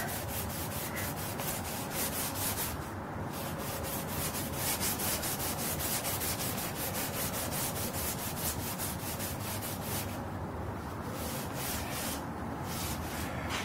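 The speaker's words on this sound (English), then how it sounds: "Yeah, see there, starting to fall apart. Very old sandpaper." Very old, crumbling sandpaper rubs over a painted surface with gold striping in quick, rhythmic back-and-forth strokes. The close, steady scratching continues with only brief pauses.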